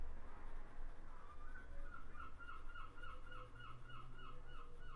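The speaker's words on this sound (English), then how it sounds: "You probably hear the seagulls in the background there." Seagulls call faintly and repeatedly in the distance near a beach, their cries running as a string of rising squawks over a low steady background hum.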